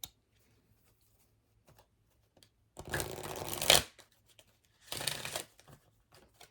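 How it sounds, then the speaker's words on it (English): Two bursts of cards being riffle-shuffled close by, the first about a second long and ending in a quick snap, the second shorter, with quiet between. "some of you might like to see shuffling"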